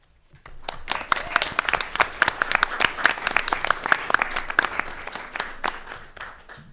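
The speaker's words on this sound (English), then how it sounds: "we can recognize with a round of applause for their hard work" An audience at a school board meeting gives a round of applause for students, a dense burst of many hands clapping that builds quickly, holds steady and loud, then thins out over about six seconds.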